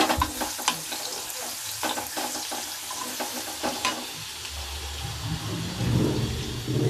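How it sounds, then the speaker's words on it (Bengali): Chopped garlic fries in hot oil in a wok, a continuous crackling sizzle with repeated scraping stirs of a spatula, growing denser toward the end. "তেলটা গরম হয়ে গেছে রসুন কুচিগুলো আমি দিয়ে দিয়েছি দিয়ে একটু নাড়াচাড়া করে নেব"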